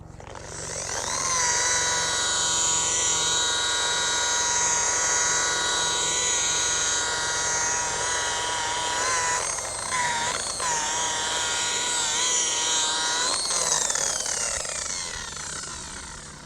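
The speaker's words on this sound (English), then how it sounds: "So obviously a polishing machine is the way to go." A polishing machine works over a glider's surface, its motor whining loud and steady with a shifting tonal hum as pressure changes, running continuously after a brief start-up.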